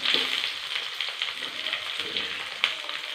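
Mustard seeds, cumin, shallots, garlic and dried chillies sizzle steadily in hot oil, a continuous bright crackle with a few sharper pops, close and fairly loud, with no talking.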